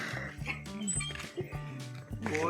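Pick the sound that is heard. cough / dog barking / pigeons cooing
dog barking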